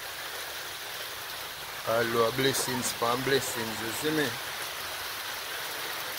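Steady rain pours at a construction site near the seaside, a continuous even hiss throughout, with someone talking over it for a couple of seconds midway.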